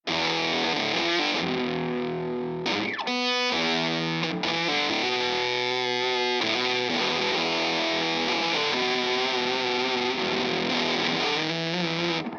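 Loud Stewart Oriphonic electric guitar with thick fuzz distortion, playing chords and riffs continuously with a brief string scrape near the start; no voices.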